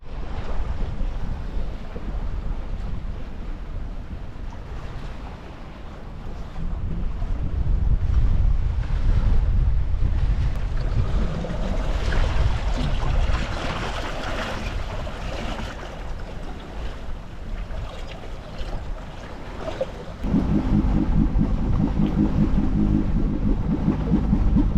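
A sailboat crossing open water toward Bimini in the Bahamas, with constant wind buffeting and waves rushing and slapping against the hull, loud and unbroken, with no voices.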